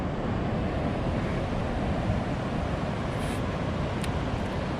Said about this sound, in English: we're now back at the top of the waterfall